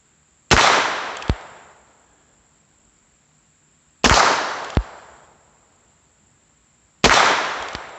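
Three sharp, loud shots from a Heritage Barkeep revolver, spaced a few seconds apart outdoors, each followed by a fading echo and a quick metallic ping of the bullet striking a target.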